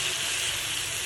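Turmeric chicken frying in oil, a steady close sizzling hiss in a brief burst with no voices.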